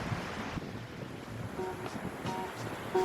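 Surf washes onto the empty Paleochora beach on Crete in a broad, steady hiss, mixed with wind buffeting the microphone and no voices.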